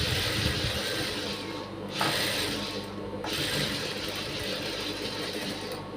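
A sewing machine runs continuously, stitching piping onto a blouse lining, with a loud, close mechanical whirr and rattle that shifts pace slightly throughout, with no talking.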